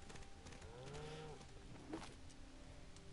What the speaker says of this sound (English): I see cows right here.